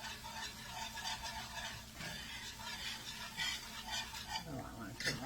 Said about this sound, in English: And cook this flour